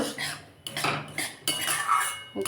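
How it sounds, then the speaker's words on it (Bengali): Semolina is lightly fried and stirred in a pan for a syrupy sweet, heard as a few close metallic scrapes and clinks of a spoon against the pan in short bursts, without talk. "সুজিটা আমি লাল করে ভাজবো না হালকা হালকাই ভেজে নেব"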